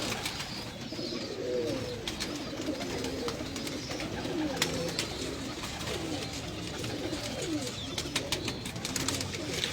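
Pigeons cooing on a Lahore rooftop loft, soft repeated burbling coos from several birds over steady outdoor ambience, with occasional faint chirps.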